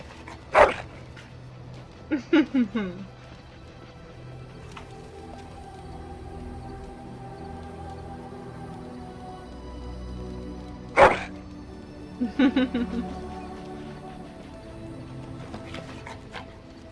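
Dog barks and whimpers in the video game Dragon Age: Origins, in two clusters: a sharp bark followed by a run of short yips and whines, then after a long gap another bark and a whimpering series, over a steady background hum.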